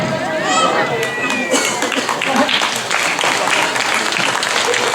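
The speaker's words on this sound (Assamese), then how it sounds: "জোৰদাৰ হাত চাপৰি বজাব লাগে" Audience applause at a Bihu 2023 celebration held by a company, dense steady clapping from a crowd, with some murmuring mixed in throughout.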